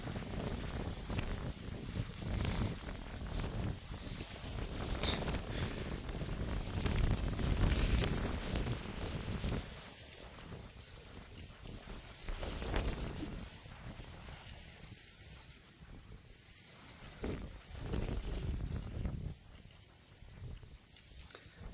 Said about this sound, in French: Trop de vent.